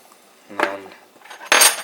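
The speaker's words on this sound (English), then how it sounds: "get the tartar sauce spreaded." A spoon scrapes against a dish while spreading tartar sauce for a flat egg sandwich, with two short scraping strokes close by, the second louder and brighter.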